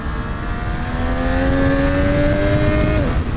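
A motorcycle engine revs steadily while being ridden, its rising harmonic whine held high and loud throughout, then dropping off sharply near the end as the throttle closes.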